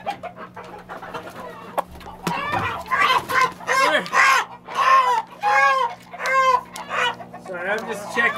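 Backyard farm flock in cold winter weather: chickens cluck and squawk in rapid, overlapping bursts close by, with a rooster's crow among them, over a low steady hum.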